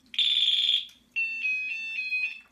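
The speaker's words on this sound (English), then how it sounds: "both water sensors, one is an audible alarm." An audible water sensor alarm on a sump pump setup blares a loud, shrill electronic tone, first one long blast, then a short pause and a series of rapid pulsing beeps, close and alone.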